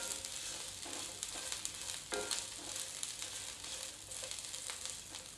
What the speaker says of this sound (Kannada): ಮೆಣಸಿನ್ಕಾಯಿಗೆ ಕಣ್ಣು ಬೀಳೋ ಥರ ಹುರ್ಕೋಬೇಕು ಇದನ್ನು.